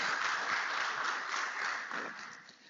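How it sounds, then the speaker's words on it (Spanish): Audience applause at an emergency-medicine conference on acute coronary syndrome, a fairly quiet, steady wash of clapping from the room that slowly fades toward the end. "le ofrecemos un caluroso aplauso"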